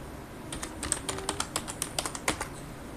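Fingers tapping on a computer keyboard, a steady run of light, close key clicks at uneven intervals, with no voice over them.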